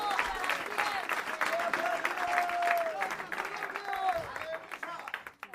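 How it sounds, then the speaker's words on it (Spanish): A church congregation breaks into sustained applause of praise, dense clapping that stays loud throughout, with voices and cheers rising over it. "¿Cuánto le damos un aplauso de alabanza,"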